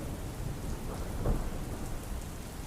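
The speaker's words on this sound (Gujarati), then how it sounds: "અમદાવાદમાં અત્યારે છૂટો છવાયો ધોધમાર વરસાદ જોવા મળી રહ્યો છે" Heavy rain pours steadily in Ahmedabad as a dense, even roar, with a brief low rumble partway through; no voices.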